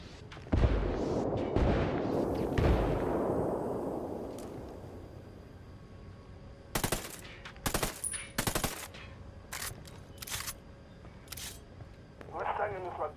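Artillery strike called in during Ghost Recon Wildlands: a heavy booming blast rolls and decays, then several sharp cracking impacts and bursts follow in irregular succession.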